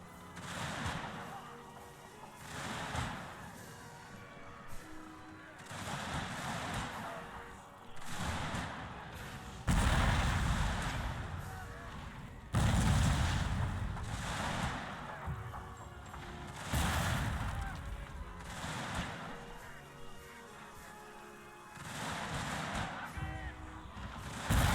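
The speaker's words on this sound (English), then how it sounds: "My artillery is just opening fire on these guys." Artillery fire in the strategy game Total War: Shogun 2 – Fall of the Samurai, with repeated heavy booming blasts and rumbling gunfire rolling across a dense battle soundscape, loud and continuous.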